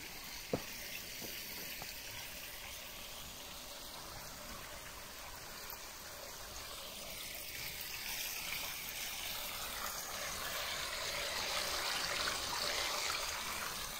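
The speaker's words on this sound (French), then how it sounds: "Carrément un beau cours d'eau là." A stream flows along a hiking trail near Chateauvallon in the Var, making a steady broadband rush of running water that stays close and continuous and swells slightly louder toward the end.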